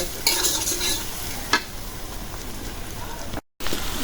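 Small fish, gulsha and tengra, fry in hot oil with a steady, crackling sizzle that runs throughout, broken by a sharp pop and a brief silent gap near the end.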